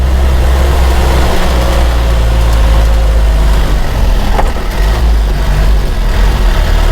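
Car engine labouring in first gear up a steep hill, a steady loud low rumble with droning harmonics that holds without a break throughout.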